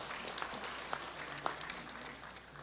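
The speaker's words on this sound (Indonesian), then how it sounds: "Boleh kita tepuk tangan semuanya." A crowd claps at a provincial anniversary ceremony for South Sulawesi, a soft, distant, continuous patter of many hands that tapers slightly toward the end.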